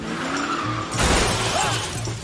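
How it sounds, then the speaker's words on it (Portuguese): A stolen van slams into a police car with a sharp crash burst of impact and shattering, after tire noise and engine rumble, followed by continued vehicle noise. "quando de repente colidiu contra o carro da polícia"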